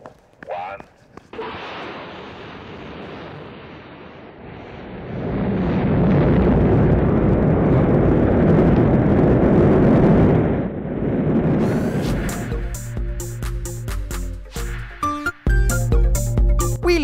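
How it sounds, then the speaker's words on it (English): A cartoon rocket launches into space with a loud, sustained roaring rumble that swells and holds, followed by a bright musical score; a voice shouts at the start. "Hey, wait, no, don't start the rocket!"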